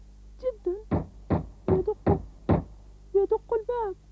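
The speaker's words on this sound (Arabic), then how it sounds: "يمكن أن أتخيل وحشا كبيرا مخيفا يدق الباب" Knocking on a door, heard as a series of five sharp, evenly spaced raps in the middle of the clip, with speech-like vocal sounds before and after.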